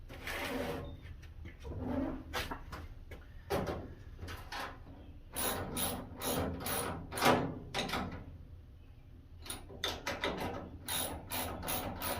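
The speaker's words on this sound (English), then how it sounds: "I am tightening these down pretty hard." A ratchet tightens bolts on a Vulcan welding cabinet. Bursts of quick, close clicking come in short strokes, separated by brief pauses, with the pawl ticking steadily.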